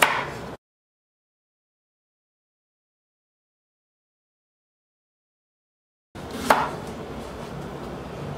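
A knife cuts a carrot on a cutting board: a brief cut at the start, a long silence, then one sharp chop followed by faint kitchen noise, close and quiet.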